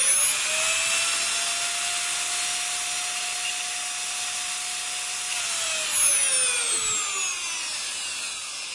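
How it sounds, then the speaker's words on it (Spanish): A CNC machine's spindle drills into material, a steady high-pitched whine holding one tone and then sliding downward as the bit bites in, with no talking. "encender el taladro, y en el momento en el que empiece a perforar, ese punto es en el que empieza a tocar el material"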